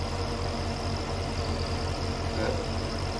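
A tractor engine idles steadily through a haymaking scene in a June meadow. The low rumble stays constant and continuous, with no break.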